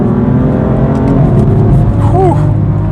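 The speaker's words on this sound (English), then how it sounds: "So all the sound you're hearing is the real exhaust and the engine that you're hearing." A BMW M4 Competition's engine and real exhaust roar loudly and close up under hard acceleration, a steady deep drone with rising pitch and a brief whine sweeping through midway.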